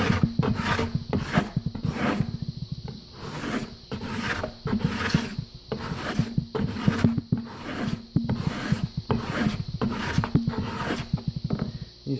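A card scraper drawn across wood grain makes repeated rasping, scratchy strokes in an even back-and-forth rhythm, close and fairly loud, with brief gaps between passes.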